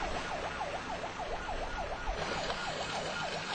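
An ambulance siren wails in a fast, repeating up-and-down pattern, loud and continuous over the low rumble of road traffic, with no voices.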